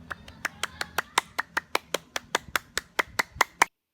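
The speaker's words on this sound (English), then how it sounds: "Give him a round of applause, please." During an online orientation seminar for physical therapy freshmen, a single pair of hands claps in a steady, evenly spaced rhythm, about seventeen crisp, close claps before stopping abruptly.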